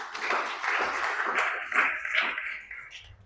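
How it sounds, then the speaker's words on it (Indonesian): A church congregation claps together in a short burst of applause that fades over a few seconds, moderately loud with a slightly roomy sound and no talking. "Tepuk tangan bagi Tuhan kita."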